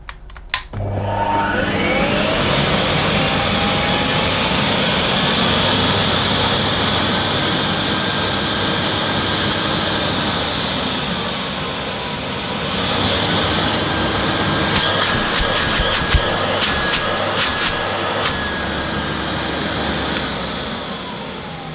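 Hoover Sensotronic S3134 Total System 5 vacuum cleaner, almost 40 years old with dry motor bearings, switched on by remote: a motor spinning up into a loud steady whine and roar, dipping briefly midway, with light clicks toward the end.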